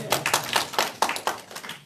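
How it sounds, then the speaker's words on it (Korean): An audience at a Korean community association president candidates' pledge briefing claps in quick, steady rhythmic bursts, about four claps a second, moderately loud and close, with no voices over it. "박수 한 번"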